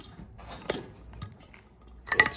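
A few scattered, scraping metallic crunches and clunks from a bad car strut, fairly quiet and irregular, with a louder burst of grinding near the end.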